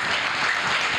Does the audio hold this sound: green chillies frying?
no